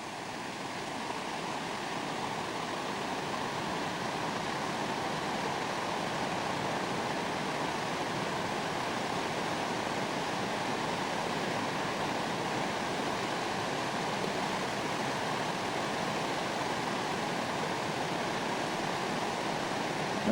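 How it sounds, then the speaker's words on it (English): The Gurgl River at Obergurgl rushes past in a constant, even roar of white water, steady and moderately loud for the whole stretch with no other sounds. "Well, this is the Gurgl River."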